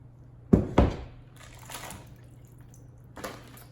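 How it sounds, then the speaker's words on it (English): Raw chicken feet dropped into water in an Instant Pot for bone broth, giving two quick close splashes followed by softer sloshing and a final small plop, with a low steady hum underneath. "So here's my water, and I'm just gonna put the chicken feet in there"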